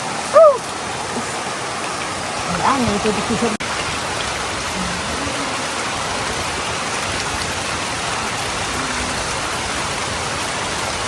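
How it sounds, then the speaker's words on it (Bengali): Rain falling steadily outdoors in a garden, a dense even hiss of drops on surfaces that holds loud and unbroken for the whole stretch, with a few faint voice sounds at the start. "এই যে বৃষ্টি নেমে পড়ছে"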